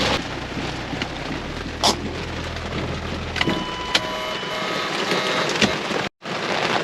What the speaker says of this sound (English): It's raining incredibly loudly.